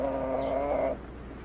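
Chicken from a 1940 film: a single short clucking, cooing call lasting under a second, close and clear over faint background hiss, followed by quiet.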